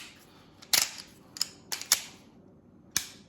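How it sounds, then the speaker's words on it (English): Sig P365XL pistol with a Wilson Combat grip module being handled on a quiet bench: five or six sharp metallic clicks and clacks at uneven intervals, close and crisp, ending with the slide locking back. "Gun locks back."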